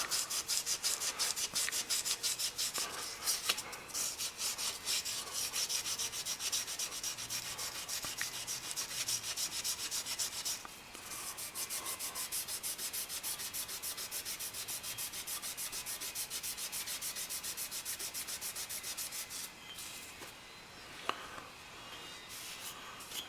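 Stuck-on gasket material is scrubbed off a 1972 Honda CB750 engine part using WD-40 as a cutting agent, a steady, fast, close rasping rub that runs on with brief pauses.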